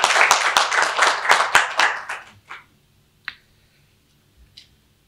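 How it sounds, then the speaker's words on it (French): Audience clapping for a director at a French talk on construction quality, a burst of many hands for about two seconds, then fading to a few scattered claps and a silence. "J'aimerais que vous l'applaudissiez"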